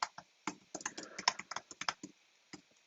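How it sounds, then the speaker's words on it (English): Fast typing on a computer keyboard, a run of crisp close key clicks in uneven bursts over a few seconds, with no voices. "Just type this up real quick"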